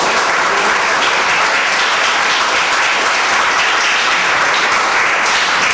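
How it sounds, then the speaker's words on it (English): A Toastmasters contest audience gives the contestants steady, loud, sustained applause, a dense wall of clapping hands filling the room throughout with no talking. "Give the contestants a bit of applause"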